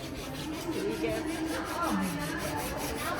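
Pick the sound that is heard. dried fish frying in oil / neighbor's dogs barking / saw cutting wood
saw cutting wood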